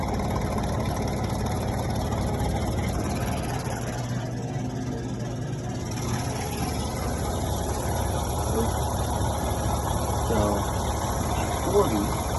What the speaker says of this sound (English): I'm going to turn the pump on.